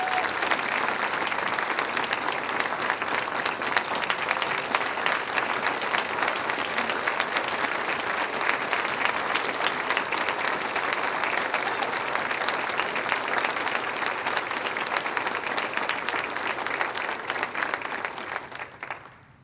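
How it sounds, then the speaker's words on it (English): An audience applauds at the Coeur d'Alene State of the City Address in 2019 with dense, steady clapping that holds for about nineteen seconds before cutting off. "Let's give Deanna a big round of applause."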